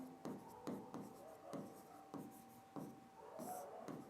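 Writing on a board during a physics lecture: a series of close, scratchy strokes in a steady rhythm, about one every half second, with faint background noise between them.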